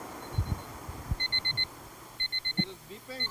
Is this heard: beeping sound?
yes